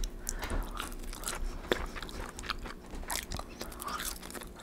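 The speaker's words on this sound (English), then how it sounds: "I'm trying to do at least 2 fry. But typically I take 1." McDonald's fries eaten one at a time close to the mic, with soft bites and moist chewing plus a few sharper crunchy snaps, quiet and continuous, no talking.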